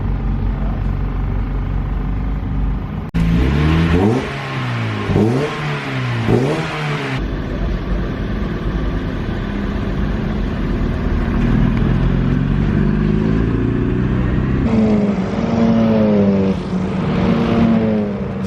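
Race cars lap Snetterton circuit in a BRSCC Mazda MX-5 Championship session, engines rising and falling loudly as several cars pass and accelerate, with a continuous roar of other cars running around the track throughout.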